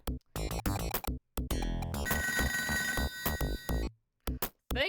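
A telephone rings in the video game Toejam & Earl, with bursts of bright electronic tones, rising blips and a sustained ringing chord broken by short silences.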